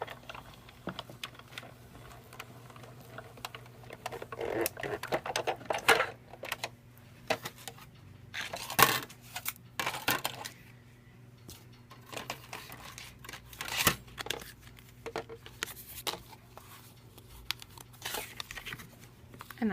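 A Sizzix Big Shot die-cutting machine cranks paper inside an embossing folder between clear plates, giving a series of close, uneven crinkling and clicking bursts with short pauses and no talking.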